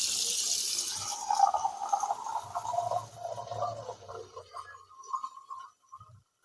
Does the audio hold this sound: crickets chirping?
no